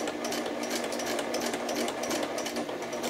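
A sewing machine stitching fabric for a bib apron runs in a steady, rapid mechanical chatter with a low motor hum, close and continuous, with no talk.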